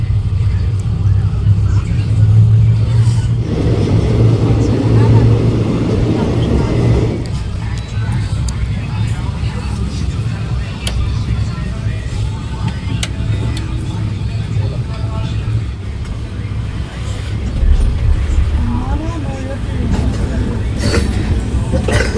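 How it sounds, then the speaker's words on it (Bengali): Local train on the Ranaghat line pulling out of a station, a loud continuous low rumble and hum of the carriages with a denser mechanical roar early on, then a steady drone. "পাশাপাশি আমাদের ট্রেনও ছেড়ে দিল এখন।"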